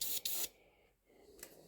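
Spray paint hisses onto a scale model of the Belfast in two short bursts, a brief hiss with a tiny gap, then a quieter pause and a faint final puff.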